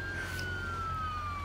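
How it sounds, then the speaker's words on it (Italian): An ambulance siren in the BeamNG Drive driving game, a steady electronic wail holding through the moment over a low engine drone, with no talk over it. "arriva l'ambulanza"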